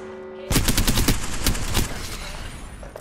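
Rapid automatic gunfire from the video game Apex Legends, a loud burst of bursts of shots starting abruptly after a short lull, then tailing off into lighter distant fire and game ambience.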